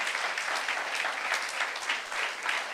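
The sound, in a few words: applause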